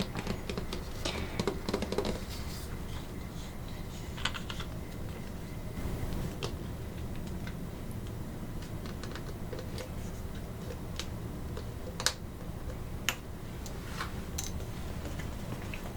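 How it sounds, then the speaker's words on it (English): Light, sparse taps on a vanilla paste container while baking brownies, scattered single clicks at close range over a quiet room hush. "Gotta do the ASMR tap."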